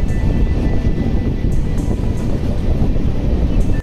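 The Kolkata Garib Rath Express runs around a curve, heard from on board as a steady, loud low rumble of the moving train with faint periodic clicks of wheels over rail joints.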